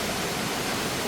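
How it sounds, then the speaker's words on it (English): Waterfall 60 meters high in Khao Yai National Park, Thailand, a steady dense roar of falling water filling the whole stretch without pause. "So this waterfall is 60 meters high"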